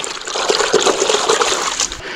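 Clean water pours and splashes while a worn gold-prospecting sluice box is cleaned out, a loud close trickling and splattering that runs steadily for a couple of seconds without talk.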